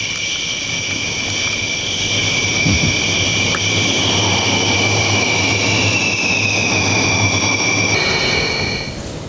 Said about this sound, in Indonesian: pesawatnya terbang rendah, derunya juga luar biasa